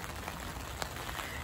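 Rain falls steadily in an empty park, a dense even hiss with faint scattered drop taps and no voices.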